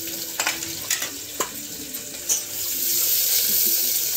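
Onions frying in a pan for paneer, heard as a steady broadband sizzle with a few scattered stirring clicks and a rising hiss toward the end, close and fairly loud with no talk.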